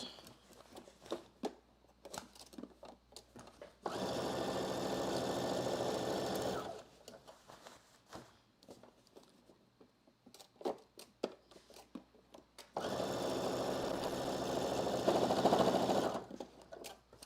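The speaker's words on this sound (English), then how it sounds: "using 5/8 of an inch seam allowance, I'm going to sew this side seam." Sewing machine stitching a side seam on a muslin garment at a 5/8-inch seam allowance, two sustained whirring runs of about three seconds each, separated and framed by quieter handling clicks and rustles, close and steady.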